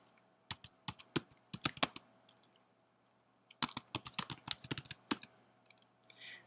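Crisp keystrokes on a computer keyboard as a terminal command is typed, arriving in two short bursts of clicks separated by a brief pause, close and clear against a quiet background.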